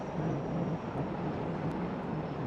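An Indian Navy advanced light helicopter hovers over the sea off Puri during a Navy Day demonstration, giving a steady, broad roar of rotor and engine noise at moderate distance for a couple of seconds.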